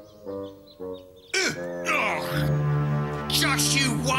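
Harsh crow caws ring out several times, loud and close, mixed with a strained human voice groaning and shouting.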